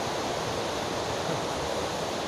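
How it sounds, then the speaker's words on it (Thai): Steady broadband rushing roar of Tat Kuang Si waterfall near Luang Prabang, a constant dense wash of falling water heard close and loud with no voices. "ตอนนี้เราก็อยู่ที่น้ำตก กวางซี แล้วนะ"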